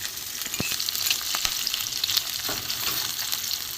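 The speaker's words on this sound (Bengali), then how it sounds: "এখানে পেঁয়াজটা দিয়ে দিচ্ছি পেঁয়াজটা একটু ভাজা হোক" Chopped onion frying in a pan, a loud, busy sizzle with scattered sharp crackles and pops, heard alone and close throughout.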